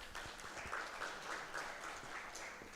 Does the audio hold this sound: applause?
yes